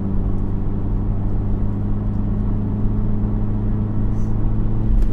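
Hybrid car engine on the A57 Snake Pass after a shift back to third gear, a steady low-pitched drone and whir inside the cabin that swells slightly toward the end, with a faint brief voice.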